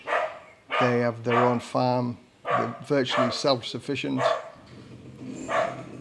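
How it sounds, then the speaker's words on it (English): A dog barks on a rural farm, sounding behind a person who talks steadily throughout. "excuse the dog and the motorbike"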